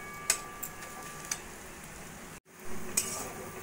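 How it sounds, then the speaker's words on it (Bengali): Bitter gourd, potato and poppy seed fry in a wok as a utensil stirs them, giving a steady low sizzle broken by a few sharp clinks and scrapes. "মাঝে মাঝে এইভাবে তোড়ালে নাড়া দিচ্ছি যাতে কড়াইতে লেগে না যায়।"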